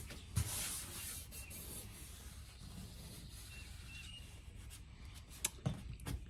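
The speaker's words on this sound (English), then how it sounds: "let's just sand on it some." Steady rubbing sand across a painted surface on a vintage hospitality camper bar, a continuous close scratchy hiss with a few sharper knocks near the start and end.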